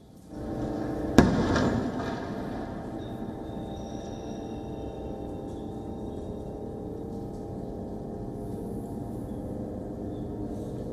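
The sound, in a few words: Israeli airstrikes and flares over Gaza City at night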